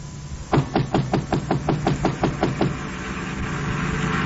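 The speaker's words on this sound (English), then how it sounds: "I knocked on the door." Knocking on a door as a radio drama sound effect: a quick series of about a dozen evenly spaced, firm raps, followed by a low rumbling hum like a car engine that rises gradually.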